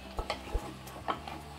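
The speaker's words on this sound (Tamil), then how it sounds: "வெங்காயத்தை நான் ஒரு நிமிஷமாக ஹை ஃப்ளேமில் வச்சுட்டு வதக்கிட்டேங்க." Soft stirring and faint sizzling of onions sautéing in oil over high flame in a pan, with a few light scrapes and clicks; quiet, close, and no talking.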